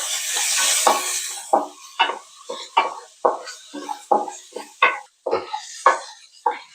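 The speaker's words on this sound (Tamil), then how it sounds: "இப்போ இது வந்து கலர் மாறுற வரைக்கும் நம்ம வந்து வதக்கிட்டே இருக்கலாம்." Small onions sautéed in a pan with a pinch of salt, giving a series of short, rhythmic scraping and clinking stirs against the pan over a faint low sizzle, close and fairly loud, with no talking.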